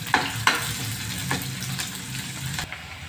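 Onion and green chilli fry in a pan with a steady close sizzle, broken by a few sharp knocks of a spoon stirring against the pan, and no voices.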